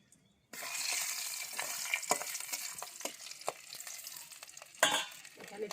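Bay leaf and spices dropped into hot oil for tempering burst into a sudden loud sizzle that keeps hissing steadily up close, with stirring clinks and a sharp flare of sizzling near the end.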